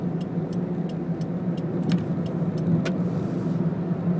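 A car travels along a road at about 60 km/h, with a steady engine and tyre drone inside the cabin and a few faint ticking clicks, no voices.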